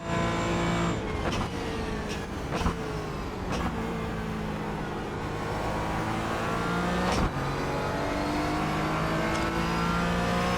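Racing video game car engine, steady sustained engine drone with shifting pitch throughout and a few brief sharp transients, loud and continuous with no talk.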